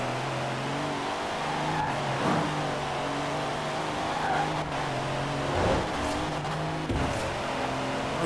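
An Alfa Romeo Giulia Quadrifoglio in the Forza Horizon 4 racing game at full throttle, engine droning steadily with rising pitch sweeps as it shifts through gears, loud and continuous with faint tire noise and no talk.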